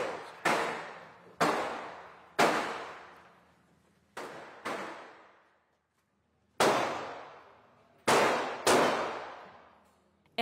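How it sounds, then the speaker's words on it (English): Sharp gunshots ring out one after another at uneven intervals inside an indoor shooting range in the US, each with a long echoing decay, loud in the enclosed space. "As the doors open, the sound of gunfire gets louder."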